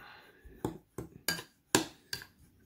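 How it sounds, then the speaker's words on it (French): A spoon mixing butter and sugar in a porcelain bowl makes five or six separate clinks and scrapes spaced about half a second apart, close and crisp, with quiet between strokes. "Donc là, il faut mélanger le beurre et le sucre."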